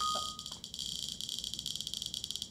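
Rapid electronic warning beeps in the Nintendo 1-2-Switch video game, a shrill pulsing tone repeating quickly and evenly after a short opening chirp, loud and alone.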